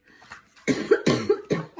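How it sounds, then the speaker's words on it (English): Four short coughs in quick succession, close and clear, from a person with a cough. "we both have a cough, not the corona"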